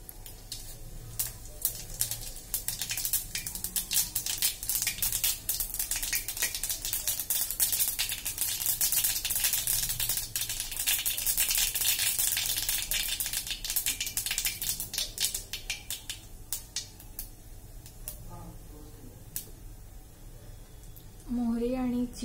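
Mustard seeds and cumin dropped into hot oil in a home kitchen, crackling and popping densely in rapid sputtering bursts that thin out toward the end, with a few louder clicks and knocks near the close.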